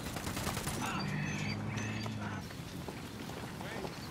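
Gunfire from the video game Ghost Recon Wildlands: a dense, sustained rattle of shots that runs for about two and a half seconds, then eases into a lower, rougher din, with voices speaking over it.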